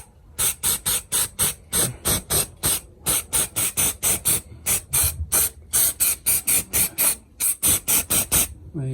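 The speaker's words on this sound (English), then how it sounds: "Just going to give it a quick primer." Primer sprayed from a can onto welded floor panels of a Vauxhall Astra Mk2 GTE 2.0L 16V under restoration, heard as a close, rapid series of about two dozen short hissing bursts with brief gaps between them.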